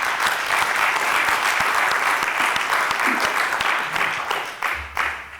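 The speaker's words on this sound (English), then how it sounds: "I hope you heard the applause from the audience" Loud, sustained audience applause after a keynote presentation at a conference session, dense clapping throughout that tapers slightly toward the end.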